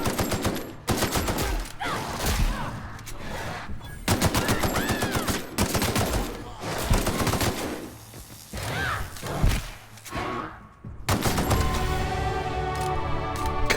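A grenade launcher in the sci-fi role-playing shooter The Outer Worlds, fired again and again in loud, rapid thumping bursts amid dense gunfire, with a brief lull before a final crashing volley.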